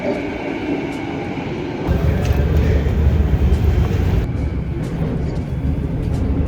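Riding a SkyTrain in Vancouver, a loud interior rumble of the moving train swells and roars, with rattling and a whining tone, and stays continuous throughout.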